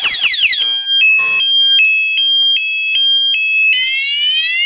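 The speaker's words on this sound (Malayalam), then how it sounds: "ചാവിട്ടാൽ നമ്മൾ അലാറം അടിക്കും" A Bajaj Pulsar 150 BS6 motorcycle's anti-theft alarm cycles loudly through tones alone: falling chirps, then steady beeping at alternating pitches, then a rising sweep, with no voices.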